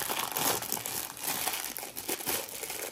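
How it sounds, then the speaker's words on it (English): A plastic bag holding a coffee mug is torn open, giving a steady, close run of crinkling and tearing plastic that lasts throughout with no talking. "we'll just kind of rip the bag"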